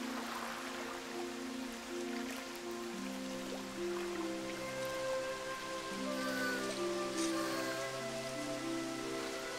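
Steady rain pours down on a flooded village in the Pororo children's cartoon, a continuous soft hiss beneath sustained music tones, with no voices.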